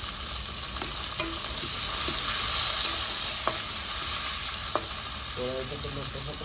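Chopped onions go into hot oil with fried garam masala in a kadai over a wood fire for kosha mangsho, giving a steady hissing sizzle with occasional scraping stirs and light clicks.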